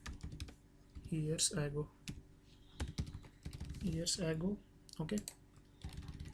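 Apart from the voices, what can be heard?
computer keyboard typing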